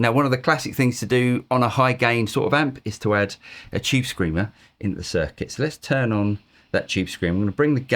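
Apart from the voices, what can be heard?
No everyday noise stands out behind the speech.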